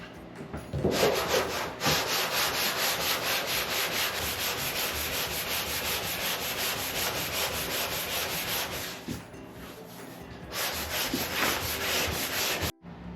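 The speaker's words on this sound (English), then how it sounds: "let's get this guy sanded down" A part from a 1987 Jeep Wrangler restoration is sanded down, a loud, steady abrasive rasping with rhythmic strokes running nearly throughout, pausing briefly near the end before resuming.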